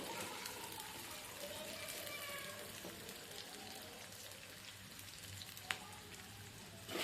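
Sliced onions fry in hot oil in a pan for veg dum biryani, a faint, steady crackling sizzle that continues throughout with an occasional louder pop, heard close up.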